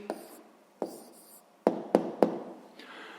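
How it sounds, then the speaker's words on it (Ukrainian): Pen writing down the answer to a sixth-grade math exercise, a few soft scratching strokes separated by pauses, with three sharper tapping strokes near the middle, close and quiet with no talking. "записуємо відповідь"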